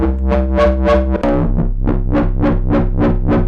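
A distorted, gritty Yamaha Reface DX synthesizer tone plays a rhythmic run of bright stabbing notes, loud and buzzy, alone without any voice.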